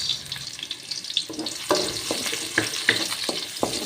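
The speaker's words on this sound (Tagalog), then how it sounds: "dito sa ating kawali tayo ay magsangkot ng ating bawang at saka sibuyas" Garlic and onion sauté in a pan for an Ilocano igado, a steady close sizzle with scraping stirs and sharp crackling pops throughout.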